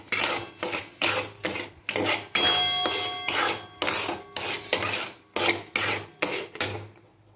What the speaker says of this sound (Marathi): आता ही अर्धी वाटी इथं साखर घालून घेऊया आणि एकसारखं परतून घेऊया।